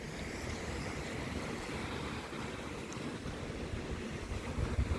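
Beach surf at the Beachside Resort on the sugar-sand shore of Panama City Beach, a steady broad wash of waves with wind buffeting the microphone throughout.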